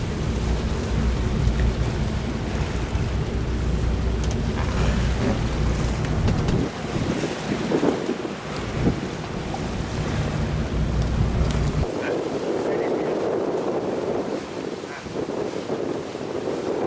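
A boat's engine rumbles low and steady as it pushes along the water off Mauritius, mixed with waves, splashing and heavy wind buffeting, the motor dropping away partway through.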